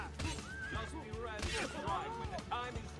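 A horse neighing in Assassin's Creed II, rising and falling whinnies that repeat several times at a fairly quiet level, mixed with game clatter and a voice talking over it.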